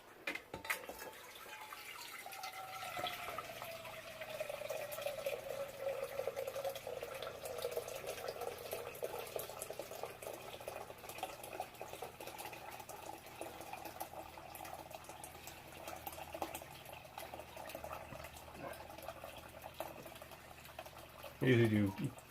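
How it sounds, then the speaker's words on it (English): Homebrew wort is poured gently from a pan back onto the grain bed, a steady splashing and trickling stream running continuously for about twenty seconds, ending with a brief louder slosh. "when you pour it back in, nice and gentle on the top, try not to disturb the grain bed"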